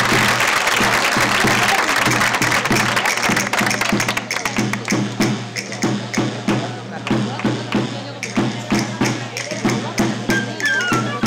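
An audience claps at a tamborileros folk music contest in Guadramiro, a dense burst of applause that thins into scattered individual claps, with speech over the clapping.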